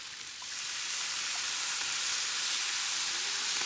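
Regular soy sauce hits veggies on a hot Blackstone griddle and erupts into a loud, steady sizzle that rises quickly and holds as a dense hiss, with no voices.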